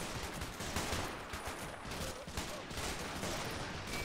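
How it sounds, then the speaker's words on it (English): A .30 cal machine gun fires in Men of War: Assault Squad during an infantry trench battle, rattling in sustained bursts amid dense surrounding gunfire, distant-sounding and faint throughout. "That 30 cal is ripping."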